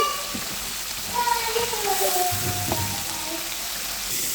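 Baim eel fish cooks in a lightly spiced, oil-separated masala, giving a continuous loud sizzling hiss. A few faint tonal sounds drift through the middle.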